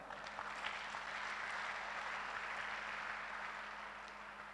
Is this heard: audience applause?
yes